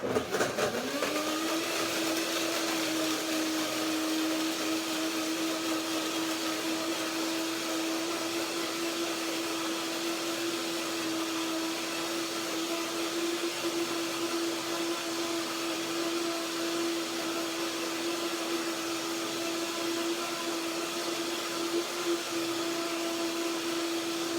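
Blender running continuously for a long stretch, blending yogurt with dates and banana, a steady loud whirring motor drone with a constant pitch after a brief spin-up, alone without talk.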